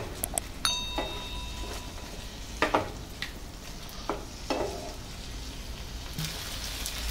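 Cashews being added to a hot pan for paneer butter masala, giving a soft sizzle with scattered stirring scrapes and clinks, close and fairly quiet with no voices.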